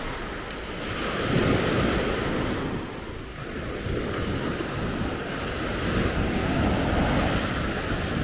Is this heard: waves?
yes